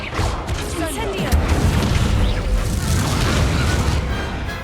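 Spell blasts crash and boom continuously through a Hogwarts Legacy duel, loud dense bursts and whooshes piling on one another with no pause, and a voice calls out spells now and then under the noise.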